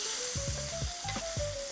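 A ribeye steak with thyme sizzles loudly in a pan as it is basted, a dense close frying hiss broken by short rhythmic scraping strokes of a spoon.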